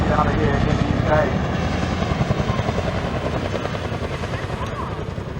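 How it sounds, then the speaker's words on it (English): A Boeing CH-47 Chinook twin-rotor helicopter flying a display at a 2022 seaside airshow in the UK, its loud, rhythmic rotor thump pulsing steadily nearby while an announcer talks over it. "The UK is the only country to have a display of this nature with the CH-47 aircraft."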